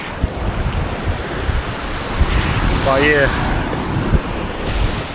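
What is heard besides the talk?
ocean waves on Little Corn Island beach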